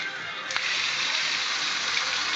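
A 3000 gallon-per-hour bilge pump discharges water in a loud, steady gush that starts abruptly after a brief thump and runs continuously, close by.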